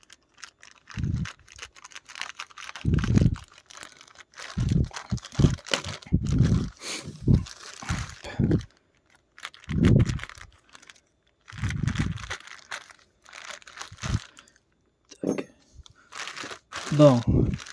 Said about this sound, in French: nous allons avec les ciseaux couper l'espèce de plastique.